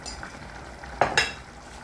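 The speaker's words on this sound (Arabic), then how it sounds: "نخليو الطماطم نتاعنا توا تتقلى" Tomatoes frying in a pan for a Tunisian cumin stew with liver, a soft steady sizzle with two brief louder stir or utensil knocks partway through.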